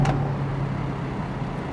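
A Porsche 718 Boxster S with its 2.5-litre engine and manual gearbox, a steady close engine drone that holds even through a downshift, with a short higher blip at the start.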